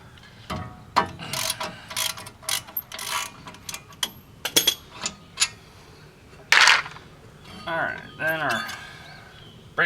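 Ratchet working loose tight hub bolts on a 2004 Chevrolet Colorado, giving bursts of metallic clicking and clatter interspersed with short knocks and scraping, fairly close, with no voices.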